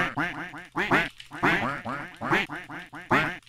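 Ducks quacking in a video game, a dense run of loud, nasal quacks in rapid bursts that overlap and repeat throughout, with only brief pauses between clusters.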